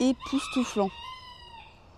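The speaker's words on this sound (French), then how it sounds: "On entend les coqs qui chantent." Roosters crow at a farm with horses, giving one clear, drawn-out cock-a-doodle-doo at moderate distance. A voice speaks briefly just before the crow.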